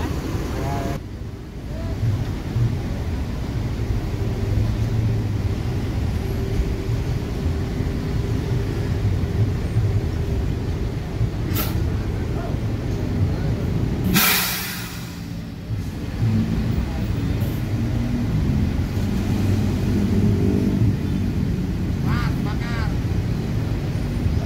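A Jetbus 3 MHD coach body on a Mercedes-Benz OH1626 chassis pulls away from a terminal, its steady engine rumble continuous and fairly loud, dipping briefly midway, with faint talk in the background.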